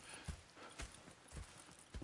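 Horse hooves clip-clopping in the video game Red Dead Redemption 2, a handful of soft, evenly spaced clops at a walking pace, fairly quiet and alone.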